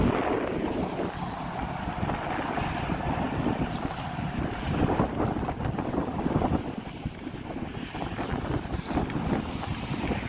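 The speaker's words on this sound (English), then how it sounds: "Bitter wind coming at my face." Bitter wind blowing hard outdoors in Canadian winter, a steady loud roar and buffeting rush against the microphone throughout with gusty surges and no voices.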